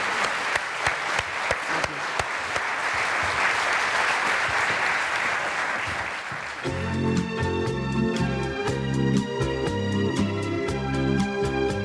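Warm audience applause greets a singer, a thick crowd clatter lasting several seconds before it gives way to a tuneful musical accompaniment with a steady beat.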